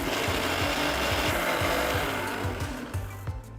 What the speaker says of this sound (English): Grind to a nice fine paste.